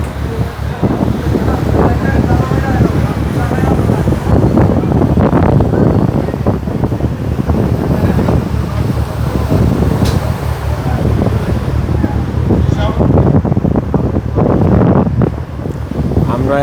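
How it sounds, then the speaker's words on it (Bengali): Side-on waves slap and wash against the hull of a large passenger launch crossing the Meghna river, a continuous loud rushing churn mixed with heavy wind buffeting the microphone. "যেহেতু এই ঢেউটা সাইড থেকে আসতেছে"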